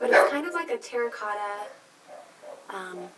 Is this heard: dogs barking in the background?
yes